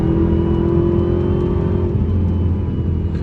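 A Dodge Hellcat pulling lightly under acceleration, its engine droning loud and steady at close range with a rising whine and no voices over it.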